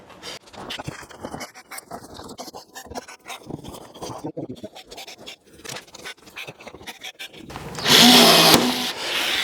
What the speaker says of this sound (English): now I'm going to rivet all around here